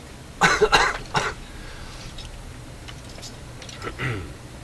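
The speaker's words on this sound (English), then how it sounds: "I'm going to be coughing for a while" Three harsh coughs in quick succession close to the microphone, followed by quiet room noise with a few faint clicks.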